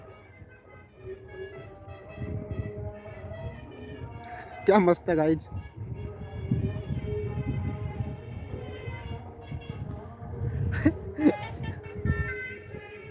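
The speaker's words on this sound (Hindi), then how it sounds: "देखो इधर से वो एक ट्रक की सारा आवाज़ सुनाई दे रही है आपको" A truck passes along a road near running water, a low rumble that builds and lingers, with two short horn toots, while someone talks over it.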